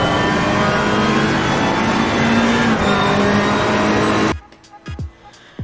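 A GT race car in the Assetto Corsa Competizione racing game roars at high revs, loud and sustained from the cockpit, before cutting abruptly to quiet, with a few short engine blips afterward.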